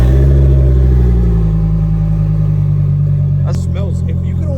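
A turbocharged car engine revs after a cold start, a loud, steady low rumble that holds throughout and eases slightly near the end, with a few brief sharper sounds over it.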